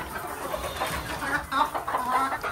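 Chickens in a poultry cage, soft clucking and murmuring calls repeating irregularly at moderate distance, quiet against faint background noise with no voices.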